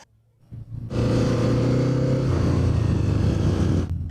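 Kawasaki Eliminator 500 motorcycle under way on a test ride, its engine building from a low idle into a loud, steady close droning rumble that holds for several seconds before easing off.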